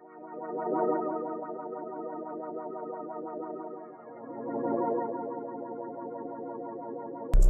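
A synth pad melody from the Kontakt Waves instrument in FL Studio, its filter cutoff swept by an XY pad, playing sustained chorused chords that swell and shift tone, alone and ending with an abrupt click.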